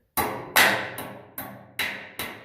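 Five sharp metallic hammer blows pound a stud down into a welding table anchor, a threaded nut already started on top; the impacts come at an irregular, roughly half-second rhythm, each ringing briefly before the next strike.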